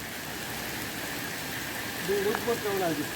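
Steady rain at night in the Konkan countryside during the monsoon, a continuous wash of falling drops close by, with a brief voice-like tonal sound rising over it near the end.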